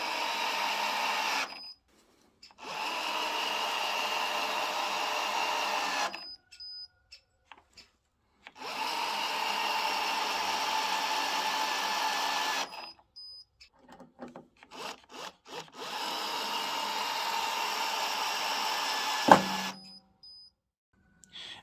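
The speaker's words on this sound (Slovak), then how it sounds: "Nastavujem teda minimálnu silu na spojke a budeme skrutkovať na druhej rýchlosti, pretože tu je spojka dostatočne citlivá." A Metabo SB 18 LTX BL cordless impact drill on second speed, with the clutch at minimum, drives screws in four separate whirring bursts of a few seconds each, with quiet pauses and small clicks between them.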